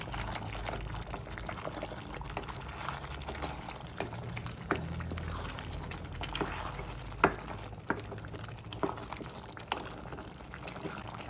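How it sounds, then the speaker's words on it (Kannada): Water being poured and splashing into a pot of chicken and chopped capsicum over steady sizzling, with occasional clinks and stirring noises throughout. "ಚಿಕನ್ ಬೇಯೋದಕ್ಕೋಸ್ಕರ ಸ್ವಲ್ಪ ನೀರು ಕೂಡ ಹಾಕ್ತಾ ಇದ್ದೀನಿ"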